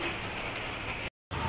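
Rain falling outdoors, a dense, steady hiss that cuts out briefly near the end, then resumes.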